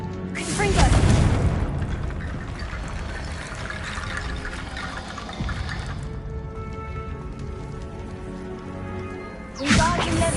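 Confringo fire spell blasts go off in Hogwarts Legacy, a booming burst at the start and another near the end, with rumbling game ambience and voice in between.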